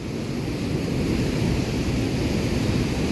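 Sea waves surge and wash in a continuous broad rumble, with wind buffeting the microphone throughout.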